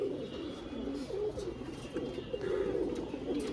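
Male pigeons coo in low, soft, repeated rolling calls close by, several birds overlapping in a steady murmur with a faint hiss behind.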